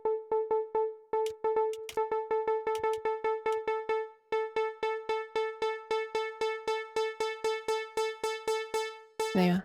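A single synth note repeats in a fast, steady pulse, alone, while the low-pass filter cutoff is swept upward until the tone turns bright and buzzy, ending on a sustained burst at the top of the filter's range.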